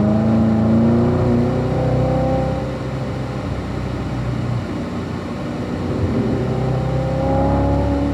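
A car drives and accelerates on a race track, its engine droning steadily throughout with a rising, revving pitch, fairly close and loud with no talk over it.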